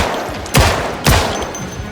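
Two loud pistol gunshots from a handgun in the zombie survival game Project Zomboid, fired about half a second apart, close and sharp with short decaying tails.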